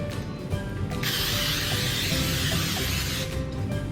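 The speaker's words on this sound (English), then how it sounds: "first we're going to butter our pan with this butter spray" Butter-flavored cooking spray hisses steadily from an aerosol can onto a baking pan for a few seconds, a broad close spray over low kitchen background noise.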